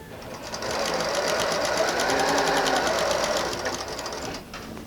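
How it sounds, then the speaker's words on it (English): A sewing machine stitches pieced quilt squares together in one steady, rapid mechanical whirr lasting about four seconds, close by and with no voices. "put it up against the needle, and sew all the way down"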